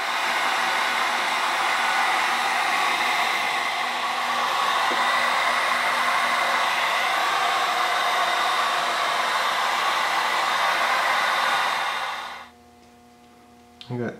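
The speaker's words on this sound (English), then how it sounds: "So the heat gun warms up the resin and kind of lets us play with it a little bit." A heat gun warming epoxy resin blows a steady, loud whooshing roar for about twelve seconds, then cuts off, leaving near silence with a faint click at the end.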